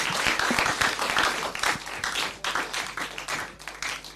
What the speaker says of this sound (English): let us, with a round of applause, welcome the presenter for University of Ghana